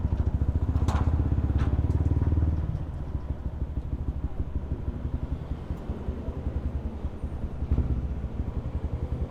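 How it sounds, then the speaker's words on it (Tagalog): A motorcycle fitted with a new elbow pipe idles steadily nearby with a rapid, throbbing exhaust pulse, louder for the first couple of seconds before settling into a slightly quieter, even chug. "Sarap tumunog ng motor ko ngayon."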